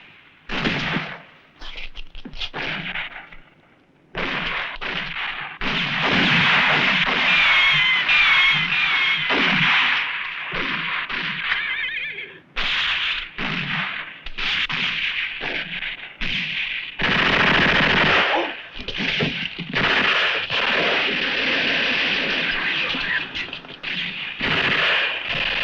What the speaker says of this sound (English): The other machine gun.